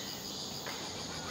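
Mosquitoes swarming around a person in wooded hills, a faint continuous high-pitched insect whine with steady buzzing throughout, no voices.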